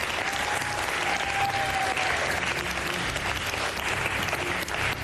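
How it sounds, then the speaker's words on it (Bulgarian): Studio audience on a Bulgarian deal-or-no-deal game show breaks into steady, dense applause, loud and continuous throughout with a few faint cheers in it. "Силни аплодисменти за Мони."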